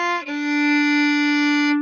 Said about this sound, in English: We don't want that. We want F natural like this.